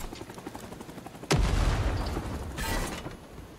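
A grenade blast in the Vietnam War shooter Rising Storm 2: Vietnam, fought in tunnels, goes off with a sudden loud boom that rumbles on for about two seconds, after light background noise and followed by a brief burst of gunfire.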